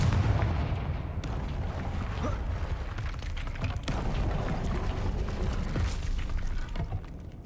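A Confringo explosive spell from the Hogwarts Legacy game booms and crackles in a dense, continuous barrage of blasts and impacts, loud throughout with sharp peaks near the start and middle.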